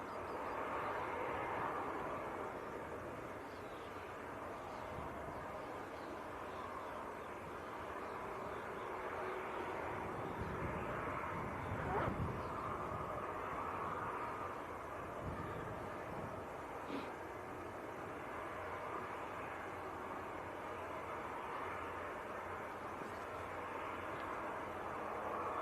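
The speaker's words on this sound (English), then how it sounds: "Beacons are flashing and starting the pushback." An Aer Lingus ATR turboprop beginning pushback at Leeds Bradford Airport gives a steady, moderately distant engine drone and hum that persists throughout, with faint rumbling swells and no talk.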